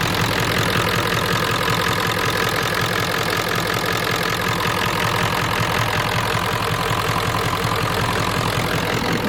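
A Ford F-250 with a 7.3 IDI diesel idles steadily and close by, a continuous loud clatter with a low rumble and no one speaking.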